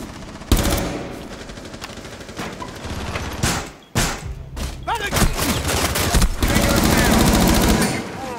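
Gunfire in Rainbow Six Siege, loud bursts of automatic rifle fire and sharp single shots cutting in and out, with brief thuds and pauses between volleys and a long sustained burst near the end.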